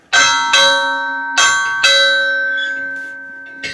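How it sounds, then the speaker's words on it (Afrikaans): Old slave bell from the Cape Colony, hanging at a farm museum, struck four times in an uneven rhythm, each loud metallic clang ringing on with a long sustained hum before the next strike. "Dis 'n ou slawe klok uit die Kaapkolonie, soos hulle gesê het destyds, die Kaap."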